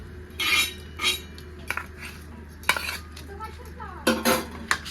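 Roasted green chillies being moved from the pan onto a plate while making a summer raw mango chutney: a few scattered clinks and scrapes of metal utensils against dishes, close and fairly crisp, with short pauses between them.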